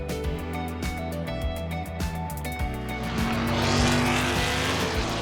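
Lola F5000 race cars roar on a track at the American Speed Festival, loud engine drones with shifting pitch and tire squeal as they pass close by.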